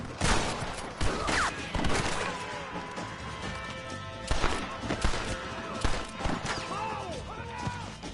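Gunfire from a Red Dead Redemption shootout: repeated sharp bursts of shots scattered across the scene, some loud and close, others thinner and farther off, over a dense bed of game ambience with occasional shouted voices.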